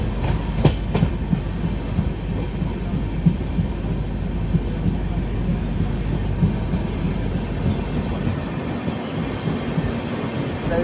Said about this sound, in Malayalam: ഇതിലൂടെ ഒരു ട്രെയിൻ പോകുന്നത് കാണാം.